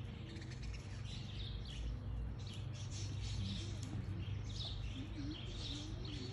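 Small birds chirp and tweet around a backyard seed feeder near a pear tree, with soft overlapping calls over a constant low outdoor rumble, moderately near and fairly quiet.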